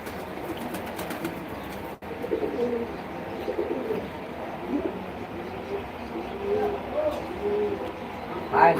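Male and female pigeons coo in soft, repeated throaty calls, close by and moderately loud, against a faint background murmur.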